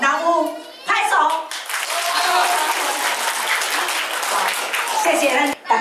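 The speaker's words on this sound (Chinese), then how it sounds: "若有，拍手。" Family members at a banquet in a Taichung hotel clap their hands in a burst of lively applause lasting several seconds, with a voice and other voices heard at the start and under the clapping.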